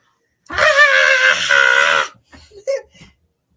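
A woman in the stands at a game lets out a loud, sustained scream of about a second and a half to cheer on her nephew, followed by a couple of brief, quieter vocal bursts.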